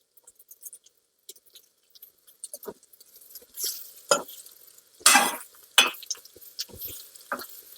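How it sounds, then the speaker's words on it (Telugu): Guntur-style bitter gourd fry is stirred in a pan, with scattered scrapes and clinks of a spoon against metal building into louder bursts of stirring and a soft sizzle, close up. "కిందకి పైకి కలుపుకోవాలి కలుపుతున్నాను చూడండి"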